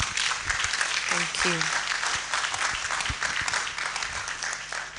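Audience at a university public lecture clapping, a steady wash of applause throughout with a voice briefly speaking over it.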